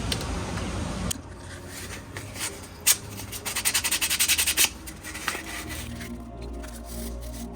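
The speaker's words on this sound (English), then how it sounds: "now I'm going to lightly sand all around it before laying the resin." A 3D printed shift knob is lightly sanded by hand, with soft close rubbing and a quick burst of rhythmic scratchy strokes in the middle, quiet overall and without talk.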